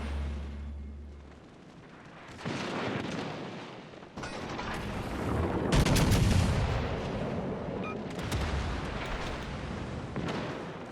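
Battleship secondary guns firing in World of Warships Legends, a sustained rolling series of booming shots and blasts, loud and dense, with heavier bursts around the middle.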